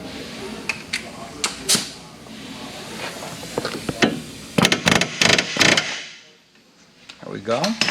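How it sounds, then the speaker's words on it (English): An air hammer works on a car steering knuckle during a 1990 Miata NA front Koni shock install: sharp metallic bursts come in clusters, loud and close, with a quiet gap before more impacts. "Air hammer to the knuckle."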